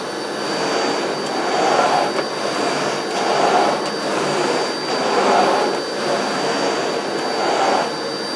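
A Miele Blizzard CX1 Comfort Powerline bagless vacuum cleaner runs steadily on its carpet setting, a loud continuous whooshing drone with a high whine that swells and dips in slow waves as the eco floor head is pushed back and forth.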